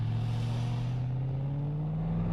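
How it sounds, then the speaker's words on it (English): Steady Aston Martin sports car engine with a fitted new exhaust, holding a loud, close, even rev with a smooth deep drone that rises slightly in pitch, with no talking. "Hop in and give it a little rev"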